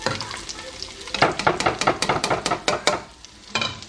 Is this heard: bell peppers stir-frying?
yes